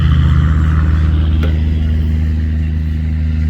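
A loud, heavy tugboat engine drones at high revs, close by, with a steady low rumble and one brief sharp knock partway through.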